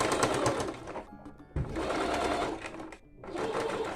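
A sewing machine runs a short backstitch along a folded, hidden hem of a cloth diaper: steady close whirring that pauses briefly twice as stitching direction reverses, then resumes.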